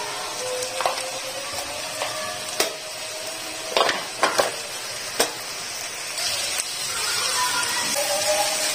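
Tomatoes with salt and chili powder fry in a pan, a constant close sizzle with scattered scrapes and knocks of stirring throughout, with no talk.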